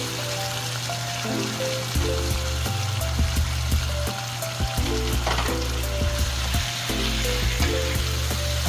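Pork spare ribs sizzling in a pan, a loud, steady frying hiss up close with intermittent clicks and bubbling pops from stirring, continuous throughout without any talking.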